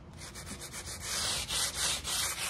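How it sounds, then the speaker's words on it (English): Light sandpaper rubs over painted checks on a home decor piece, producing close, scratchy sanding strokes that swell and fade in a quick uneven rhythm, with no voices. "Just a light sand to rough it up."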